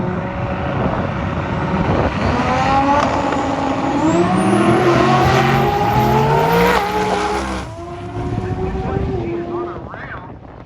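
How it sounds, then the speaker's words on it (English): A 1967 Chevelle race car with a 427 cubic inch Chevrolet engine roars down a drag strip in a small-tire race, rising through the gears loudly and close, while an announcer talks over it. "Corey Thompson from Milwaukee, Oregon in that 67 Chevelle"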